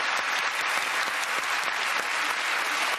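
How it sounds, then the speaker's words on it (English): Studio audience applause on a British TV comedy panel show, a full, even roar of many hands clapping continuously, bright and sustained with no talk over it. "applause to Rachel Hewitt-Milton"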